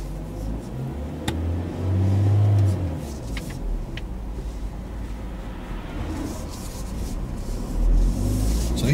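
A car pulls away during a driving lesson, its engine a low, moderate hum that swells briefly as it accelerates, with faint rubbing and road noise.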